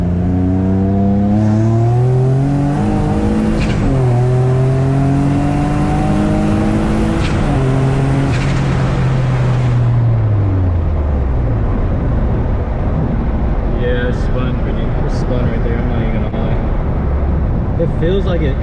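A single-turbo Nissan G35 accelerates hard with its wheels spinning, the engine note climbing through repeated rising sweeps with short breaks for gear changes, loud and close from inside the car, then settling to a lower rumble.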